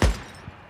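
A single sharp gunshot in the video game Days Gone, a loud close crack that decays quickly, followed by a fainter second thump.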